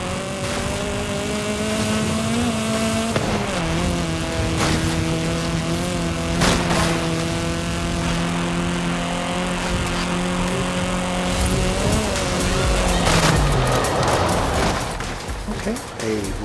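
Engine of a Volvo V60 driving in a video game, a steady mid-pitched drone that shifts through gears with rising and falling revs, heard continuously with a voice talking over it.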